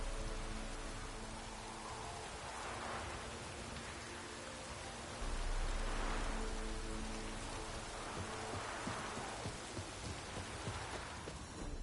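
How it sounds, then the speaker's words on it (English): Steady rain falling in The Witcher 3, a dense continuous hiss of drops with soft low rumbles swelling and fading underneath, with no voices. "Looks like rain."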